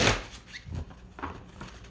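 A deck of tarot cards is shuffled in a brief, close riffle with soft papery bursts and light thumps, heard alone without talk.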